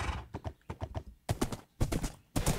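Horse hooves clip-clop in Minecraft, a quick run of crisp, close, evenly spaced knocks that pause and then resume in louder bursts.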